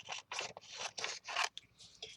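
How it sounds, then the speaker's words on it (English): Scissors snip and trim through tape on playing cards, a quick series of five or six close, crisp cutting strokes with short pauses, no voices. "We're going to take this with the scissors and we're going to trim it out."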